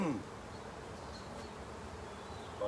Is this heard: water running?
no